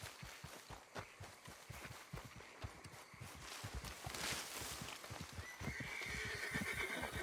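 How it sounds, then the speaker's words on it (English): A Mustang horse in the Red Dead Online video game whinnies and walks, with steady hoof clip-clops throughout and a drawn-out neigh toward the end, close and moderately loud. "That's my most trustworthy horse. Well, sort of. He's my Mustang."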